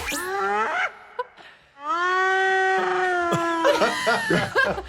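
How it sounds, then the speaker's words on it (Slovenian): A hyena gives loud, close, drawn-out wailing whoops that rise and hold, then breaks into shorter yelping calls. "To je glas hijene."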